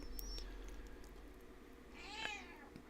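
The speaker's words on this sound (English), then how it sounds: "My cat is meowing." A house cat gives a single short meow near the end, heard faintly and close against low background noise, with no talking.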